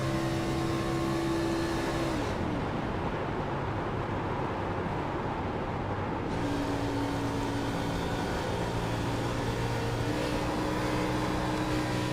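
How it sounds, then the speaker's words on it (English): A race car in a sim racing video game lifts off the throttle into a corner, its steady engine drone dropping away to a quieter coast before a fainter engine tone returns; continuous, moderately loud, with no talking. "we'll hear the car shut off going down into the corner, trying to save as much fuel as he can"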